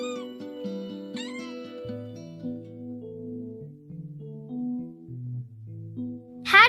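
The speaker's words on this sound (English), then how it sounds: "Kittens meow to say hello or to ask" Kittens meowing, several short high mews early on and a sharper cry at the end, heard over a soft plucked background melody, fairly faint and with no talk.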